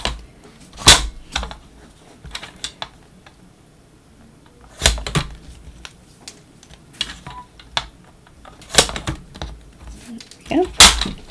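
A paper trimmer cuts card stock in a handful of sharp, separate slicing and clicking bursts, close and fairly quiet, with pauses of near silence between them.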